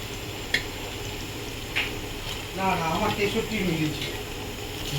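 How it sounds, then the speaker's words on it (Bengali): Prawns fry in a pan with a low, continuous sizzle, while a person talks over the frying partway through. "এবারে সেখানে চিংড়ি মাছটাও দিয়ে দেবো।"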